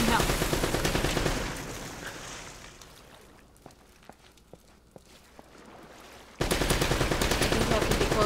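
Gunfire rattles in Uncharted: Drake's Fortune, with dense, rapid automatic bursts at the start and end, loud and close, and a quieter middle stretch of scattered single shots.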